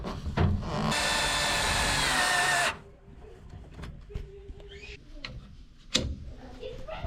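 A power drill drives screws into a vent cap in one loud close whirring burst of about two seconds, followed by quieter clanks and handling noises.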